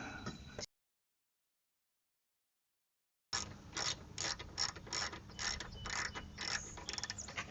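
A ratchet wrench tightens a bolt on an awning rail mounted on a vehicle. Brief ratcheting comes first, then a silent gap, then a close run of rapid, rhythmic clicking strokes.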